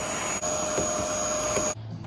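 A vacuum cleaner runs steadily at close range with a constant whine, briefly dipping twice before cutting off near the end, as used during a MaxxFan Deluxe roof fan install in a Sprinter van.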